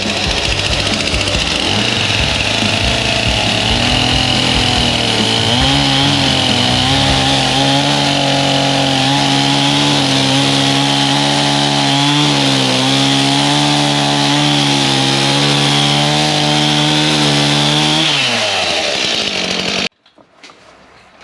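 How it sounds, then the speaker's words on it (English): A chainsaw cuts through lead, a loud, sustained engine whine that climbs and wavers in pitch for about twenty seconds before cutting off abruptly into near silence. "I did not know you could cut lead with a chainsaw."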